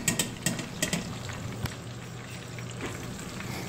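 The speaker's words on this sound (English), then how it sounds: "I'm deep frying" Tilapia fish deep frying in hot oil gives a steady, close crackling sizzle, broken at the start by several sharp pops and spits before settling into an even bubbling hiss.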